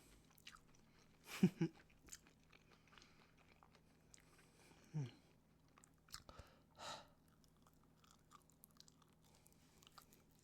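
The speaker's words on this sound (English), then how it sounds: "I'm done chewing that bit of soul" A fox spirit chewing in a wholesome role-play setting, a few soft crunchy bites in scattered clusters, close and quiet against near silence.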